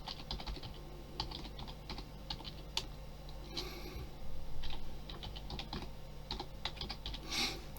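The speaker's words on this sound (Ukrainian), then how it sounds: "Записую свою електронну пошту, яку я при реєстрації вказав." Rapid clicking keystrokes on a computer keyboard while an email address is entered at a login screen, irregular bursts of taps close and clear over a low steady hum.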